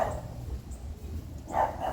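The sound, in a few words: dog barking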